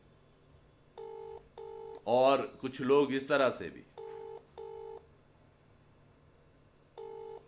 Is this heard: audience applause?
no